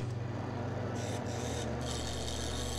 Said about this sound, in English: using my parting tool, I'll make a shoulder for the tenon